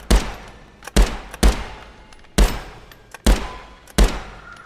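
Six loud, sharp rifle shots ring out at roughly even intervals, each with a brief decaying tail, during VR game rifle training using a haptic gunstock; no talking.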